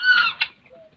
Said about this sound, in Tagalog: sisiw ng pabo.